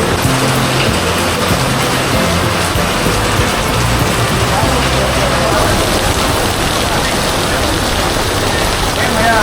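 Heavy July monsoon rain pours steadily and densely throughout, a continuous loud hiss of drops hitting surfaces, with a low rumble beneath.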